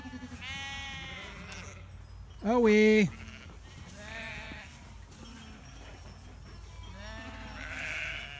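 A sheep lets out a loud, wavering bleat midway, with fainter bleats and farm noise around it, at a farm during shearing.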